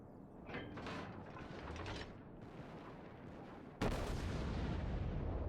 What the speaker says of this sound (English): Shots out once more.